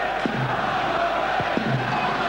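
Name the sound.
football stadium crowd noise, Derby fans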